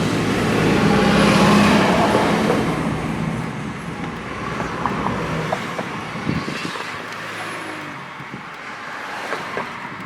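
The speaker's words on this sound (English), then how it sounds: "Wait till all the traffic gets up here." Steady road traffic at an intersection in Delray, Detroit, with cars, buses and trucks rumbling past in a continuous loud wash of engine and tyre noise, no talking.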